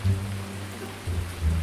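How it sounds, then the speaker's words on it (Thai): Steady rain pours down at a small excavator dig site, a dense, even hiss with low rumbling underneath, close and continuous. "ฝนตกครับฟังบรรยากาศฝนตกไปด้วยแล้วกันนะ"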